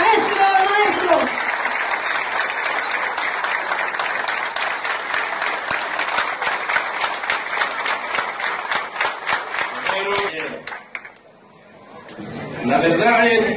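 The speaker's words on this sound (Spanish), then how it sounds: "Que se siente el aplauso" Audience in a hall applauds at length, dense steady clapping that grows more rhythmic before fading out, then speech resumes at the end.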